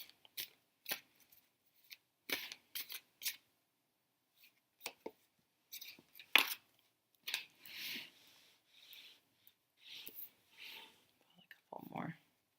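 Tarot cards without printed backs are shuffled and laid out, with soft papery flicks and snaps arriving in short bursts, quiet and close, interspersed with faint whispered talk.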